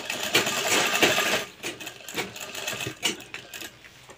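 Sewing machine stitching a straight seam on a kurta pocket, a close, busy whirring that begins loud and then softens into uneven bursts.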